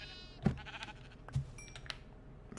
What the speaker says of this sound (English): Is there a freaking sheep eating my crops?